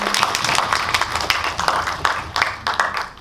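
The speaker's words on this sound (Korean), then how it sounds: "약간 박수 한번 부탁드릴게요" Audience applause at a Korean film screening talk for the movie Dream Palace, a dense, steady patter of many hands clapping close and loud, with brief sharper bursts throughout.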